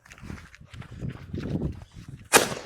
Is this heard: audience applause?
no